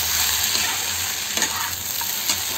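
Sabudana khichdi with peanut powder is stirred in a sizzling pan, with a steady frying hiss and a few soft scraping strokes, up close.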